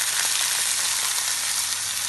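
Chicken browns in a frying pan with a loud, dense, continuous sizzle, close up and steady, with no voices over it.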